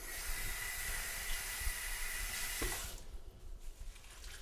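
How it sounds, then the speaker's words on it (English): Cilantro and parsley being rinsed under a running kitchen tap, a steady faint hiss of flowing water that cuts off near the end, leaving a quieter room. "First thing is we have some cilantro and some parsley. And we're going to rinse these off quickly."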